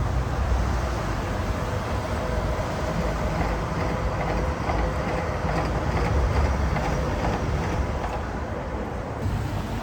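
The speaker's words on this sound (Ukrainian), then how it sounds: "тільки що тут електричка проїхала" An electric commuter train rumbles past at night in Edmonton, a loud, steady close roar with faint clickety-clack of wheels on rails lasting throughout.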